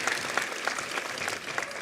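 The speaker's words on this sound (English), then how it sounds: "How about a round of applause just to get in the mood?" A large crowd at a university convocation ceremony claps in dense, continuous applause that stays steady and full throughout.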